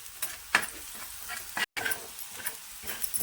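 Onion fries with salt in a pan while being stirred, giving a steady hiss and sizzle broken by a few scraping strokes and brief clatters, close and fairly loud, with a momentary dropout midway.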